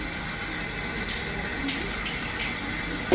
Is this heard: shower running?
yes